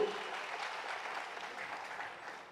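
Sustained applause from an audience at a Konda Lakshman Bapuji Jayanthi celebration, a steady broadband patter that holds at an even level throughout and eases slightly toward the end, with no talking over it.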